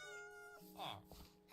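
A cat in the video game New World gives a short meow, heard faintly under game music and a voice.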